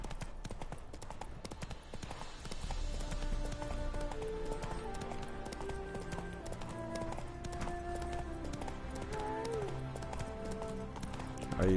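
Rhythmic clip-clop of horse hooves trotting along in the video game The Witcher 3: Wild Hunt, mixed with background music and a soft tonal score.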